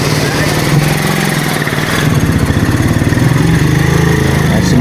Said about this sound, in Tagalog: Eto, magdadaan yung motor, susubukang dumaan.